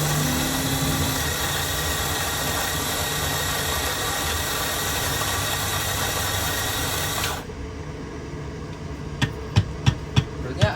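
An automatic coffee processing machine runs with a loud, dense mechanical whir that cuts off abruptly, followed by a few sharp clicks in the quieter remainder.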